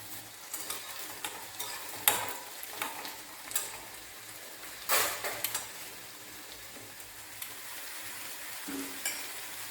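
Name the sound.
mustard seeds sizzling in a pan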